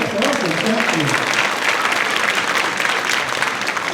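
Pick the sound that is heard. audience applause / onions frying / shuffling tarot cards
audience applause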